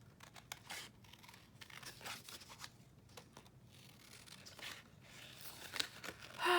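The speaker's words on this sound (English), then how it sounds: "Oh yes, y'all just watch me cut." Scissors snipping through printed paper while a Bible journal page is cut out, a quiet run of short, irregular crisp snips and rustles, close by, with no talking.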